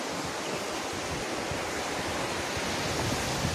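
Steady broadband wash of ocean surf on a white-sand beach at Havelock Island, a continuous close roar of breaking waves with no voices.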